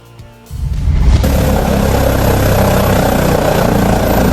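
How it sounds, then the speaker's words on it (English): A Woodsman 440 stump grinder's engine roars up loud and steady after a quiet start, holding a dense, continuous mechanical drone close by. "Its engine roars with authority, devouring huge logs in the blink of an eye."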